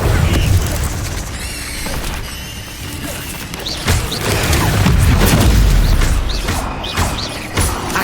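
Spells cast in combat in Hogwarts Legacy, a busy string of loud magical whooshes, clanks and booming impacts coming in quick succession, with a voice shouting throughout.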